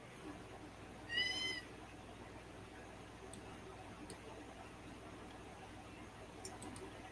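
A single short cat meow sounds near the start, fairly close and clear, followed by faint ticking and small clicks in an otherwise quiet indoor room.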